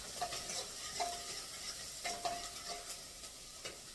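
Spices for a dal tempering sizzle and crackle in hot oil in a pan, with a few sharp stirring scrapes at irregular intervals, close and fairly quiet.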